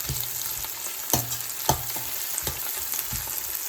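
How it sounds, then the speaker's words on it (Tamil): Onions and whole spices frying for drumstick biryani, a continuous close crackling sizzle with periodic sharp knocks and scrapes of a spoon stirring the pan, fairly loud and without any talking. "இந்த வெங்காயம் நல்லா ப்ரௌன் கலராக வர்ற வரைக்கும் வெயிட் பண்ண வேணும்."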